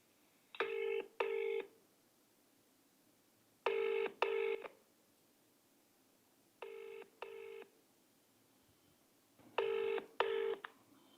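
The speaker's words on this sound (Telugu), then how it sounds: "ఒక్కసారి జస్టిస్ ఈశ్వరయ్య గారికి ఫోన్ చేద్దాం" Four pairs of short electronic dialing tones, each pair a quick double beep, repeating at steady intervals against a quiet background.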